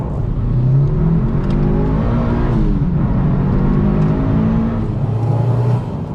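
Mitsubishi Evo VI RS engine heard from inside the cabin, a loud, steady drone that surges and eases continuously with no voices.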